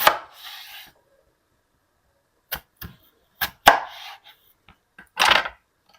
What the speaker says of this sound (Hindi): इस तरह आपने आलू काट लेने हैं